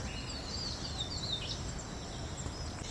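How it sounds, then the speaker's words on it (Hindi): Faint high-pitched bird chirps and a short warbling call in a forest, over a quiet, steady outdoor hiss, distant and sparse, with no talking. "जब चिड़ियों की इतनी सारी आवाज़ आती है तो बहुत अच्छा लगता है जंगल के अंदर।"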